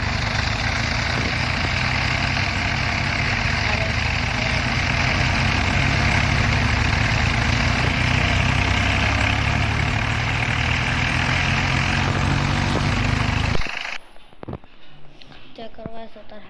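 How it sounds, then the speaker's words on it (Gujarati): A tractor engine rumbles loud and close at a steady low idle with a heavy throbbing drone, then cuts off abruptly near the end, leaving quieter background noise. "ટ્રેક્ટર છે। તો સ્ટાર્ટ કરીએ। સ્ટાર્ટ કરો।"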